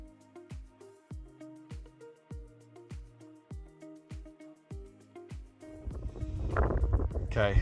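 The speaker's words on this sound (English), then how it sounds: "The wind's getting up a little bit" Wind on a beach during metal detecting: a regular series of pitched detector beeps plays first, then gusty wind rumble buffets the microphone loudly over the last couple of seconds.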